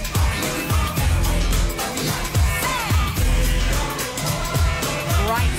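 A song that samples another song plays as dense recorded pop with a heavy, steady funk beat. Punchy repeated bass and drum hits run under a full mix, with no talk over it.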